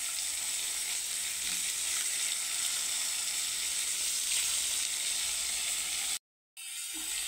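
Eggs fry in a little oil with a steady, even sizzle that hisses on without a break, close and fairly loud, then cuts out briefly near the end before picking up again.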